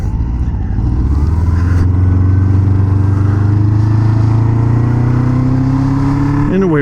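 A 1977 Honda Hondamatic motorcycle engine pulls steadily in low gear without throttle, a loud close low drone with a slowly rising hum and no talking.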